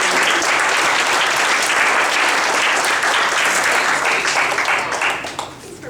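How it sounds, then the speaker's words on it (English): Warm audience applause at a Toastmasters panel discussion in Toronto, dense and even for several seconds before thinning slightly at the end, with no speech over it. "A round of applause, please."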